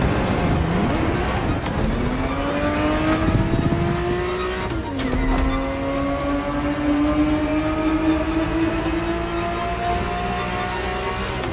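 A Ferrari 365 GTB4 engine races in The Crew Motorfest, droning loud and steady as it climbs through the revs, with a shift and drop in pitch partway before rising again.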